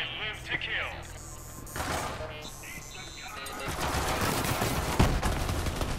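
Shotgun blasts in the video game Borderlands 3 crack out amid dense, busy combat noise, with one sharp loud report near the end, while a player talks over the action.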